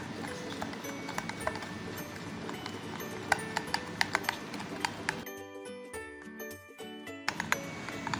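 Cream for fruit chaat is stirred in a bowl, with a steady run of light clinks and taps from the utensil against the bowl. The sounds are quiet and sit under background music in the middle stretch.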